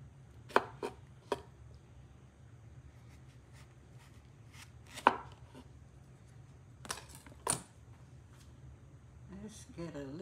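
A knife chops a serrano chili on a cutting board with a handful of crisp, separate thuds spaced irregularly, and a faint rustle of handling at the end, close and quiet, with no talking.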